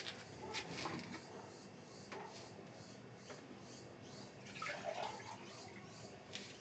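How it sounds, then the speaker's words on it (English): Water runs into a pan at a kitchen setup for yarn dyeing, a soft continuous splashing stream with a few clunks and knocks around it, fairly faint. "Get some water in the pan."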